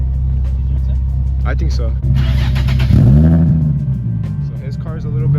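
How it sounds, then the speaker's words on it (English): A Nissan Z car with a VQ engine idles with a deep low rumble, then fires off a sharp rev that climbs and falls back. People talk briefly nearby. "he's gonna turn on his car and we're gonna get a video of how his car sounds"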